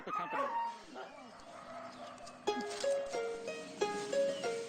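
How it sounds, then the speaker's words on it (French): Several dogs bark and yip in short bursts at close range, with sharper, louder barks joining partway through, set over a background of speech and music. "Les 2 autres chiens lui tiennent compagnie."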